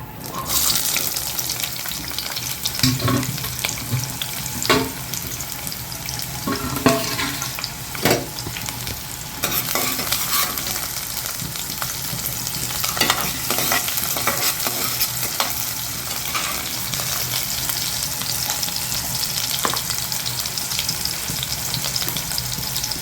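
Onions fry and crackle in a pan for a spicy fish curry while being stirred, with scraping strokes and intermittent running tap water nearby, steady and close, with no talking.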